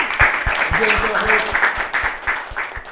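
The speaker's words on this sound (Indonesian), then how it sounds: "Tepuk tangan untuk tim gue dulu" Audience applause at a live comedy stage show, a steady crowd clapping with regular beats, loud and continuous throughout, with a voice talking faintly underneath.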